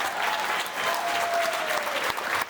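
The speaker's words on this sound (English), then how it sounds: "everybody give them a round of applause for being here" Audience applause in a room after a speaker's request, a sustained burst of clapping from a crowd, steady and fairly full for a couple of seconds.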